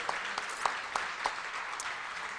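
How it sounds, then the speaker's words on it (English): Audience applause at a Rotary Club holiday celebration meeting, a light, steady patter of clapping from a modest crowd with a few sharper individual claps standing out, fairly quiet and without talk. "let's give another big round of applause to the Fisher family for being our sponsor of the meeting today"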